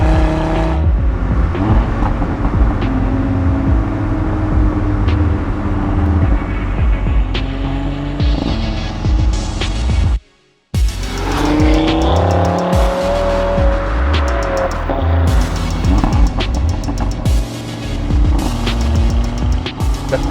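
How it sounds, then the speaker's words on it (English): An Audi RS3's five-cylinder engine revs hard through bends, its raspy note rising and falling with gear changes and echoing off surrounding trees, loud and close, with a brief cut near the middle and tire noise underneath. "the trees around it just echoes back this sweet 5-cylinder engine noise"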